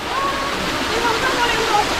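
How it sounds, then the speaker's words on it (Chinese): Small waterfall in a hillside stream on a hot hiking trail in Sai Kung, Hong Kong, giving a steady, close rushing splash that runs throughout. "仲有个瀑布仔啊！"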